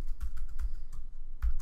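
Several sharp keystrokes on a computer keyboard as a property search is typed into real-estate listing software, loud and close in quick irregular bursts with short pauses between, and no voice.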